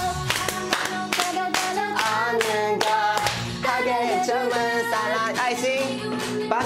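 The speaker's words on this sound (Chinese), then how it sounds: "这边很简单，拍手" Rhythmic hand clapping in a newly choreographed dance routine taught on a music show, sharp regular claps in time over loud pop music with sung vocals, close and prominent.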